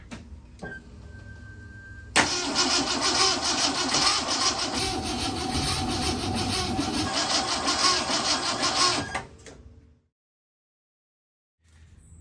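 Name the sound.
1968 Mustang engine cranking on a start attempt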